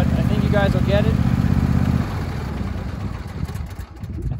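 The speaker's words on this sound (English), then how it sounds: "I don't know if you could hear that over the noise of the engine in the mower deck" A John Deere E120 lawn tractor engine drones loud and steady with its mower deck running, a dense low hum that thins out midway while the engine keeps going.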